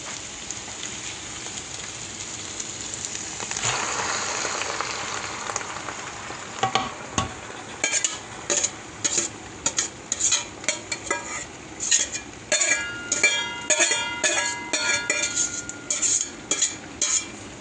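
Potatoes tipped into a hot cooking pan, a steady sizzle of frying followed by a long run of rhythmic metal spatula scrapes and clinks as they are stirred, close and busy.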